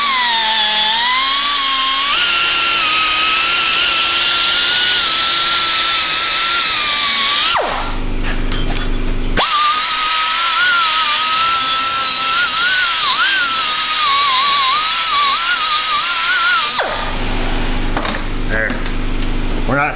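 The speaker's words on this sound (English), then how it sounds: "I ground a little bit of it off" Metal on a Ford Flex being ground before welding, a loud, sustained high whine from a power grinder with two brief pauses, running on and off throughout.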